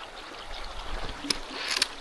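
Water of a small creek in Bush Hill State Forest sloshes and trickles close by as it is crossed on foot, with a soft flowing wash and a couple of sharper splashes near the end, with no talking.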